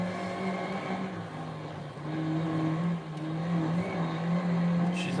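An old turbocharged rally car in Assetto Corsa Rally drones steadily through second gear, its engine note climbing in pitch with a slight surge midway, loud and alone.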